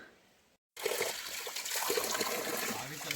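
Natural year-round stream water trickling and splashing in Patalkot, Chhindwara, a soft gurgling flow that cuts out briefly, then returns louder and steady.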